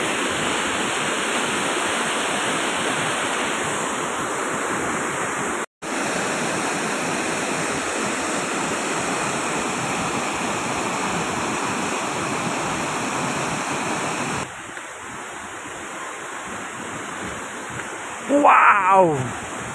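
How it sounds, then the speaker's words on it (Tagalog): Mother Falls in San Luis, Aurora roars as a dense, steady rush of falling water, loud and close, filling the whole stretch with a brief dropout partway and a few quick bright sounds near the end. "Lakas ng volume ng tubig oh"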